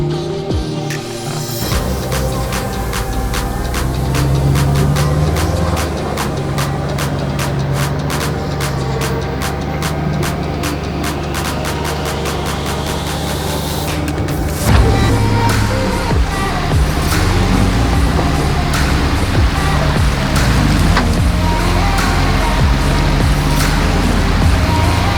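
Land Rover on locked 1-ton axles and 37-inch tires climbing off-road hills, a steady loud engine drone with a deep low rumble that holds for the whole stretch, with no talk over it.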